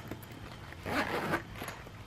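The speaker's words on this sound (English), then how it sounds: "all ready to unzip and load up" A zipper pulls open along the pocket of an art supply bag, a close, steady ripping rasp that swells in the middle, with faint handling sounds around it and no talk.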